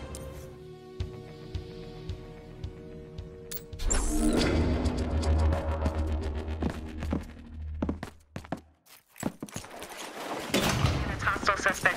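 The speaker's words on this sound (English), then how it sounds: "reports of gunfire near the Federal Deposit Bank" Sharp bursts of gunfire in Battlefield Hardline crack over a dense, music-like game soundtrack, with rapid shots and impacts clustered in the second half.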